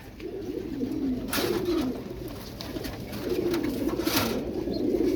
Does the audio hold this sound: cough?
no